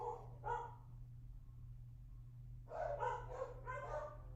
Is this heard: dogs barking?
yes